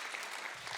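A short burst of audience clapping at a student leadership conference, an even patter under a second long, fairly quiet.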